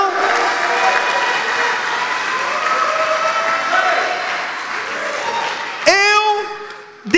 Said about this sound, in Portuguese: Dê um forte aplauso à palavra de Deus